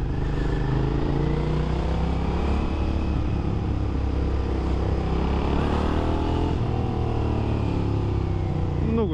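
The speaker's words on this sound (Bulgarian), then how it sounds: "Много яко малко моторче" A small motorcycle engine runs steadily and loudly close by for about nine seconds, its drone rising and falling slightly with the throttle, accompanied by faint wind noise.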